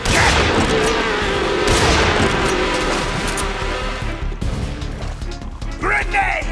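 Dense video-game gunfire and a grenade blast rattle through a Metal Gear Solid 3 firefight on Xbox 360, with loud sustained volleys, crashing impacts and shouting voices mixed in.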